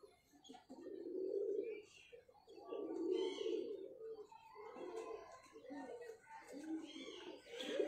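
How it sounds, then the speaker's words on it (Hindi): Pigeons of prized bloodlines cooing at a breeder's loft, a series of soft, low, rolling coos repeating every second or so, fairly close, with faint chirps from other birds around them. "ये देखें जी कबूतर"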